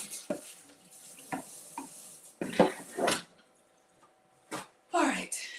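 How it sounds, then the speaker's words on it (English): Butter hisses and sizzles on a hot griddle in a home kitchen, broken by scraping, clattering utensil strokes, with a person talking close by. "I just put a stick of butter directly on the griddle."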